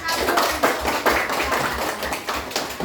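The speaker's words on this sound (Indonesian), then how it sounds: "Tepuk tangan." Elementary schoolchildren in a classroom clap their hands together, a brief, close, continuous round of applause with voices mixed in.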